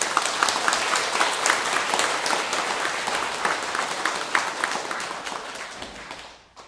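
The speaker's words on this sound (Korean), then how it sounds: "이제 눈 뜬 사람만 박수 한번 쳐보세요" Audience at a Buddhist wisdom festival talk clapping together, a full burst of applause with distinct individual claps that fades out near the end.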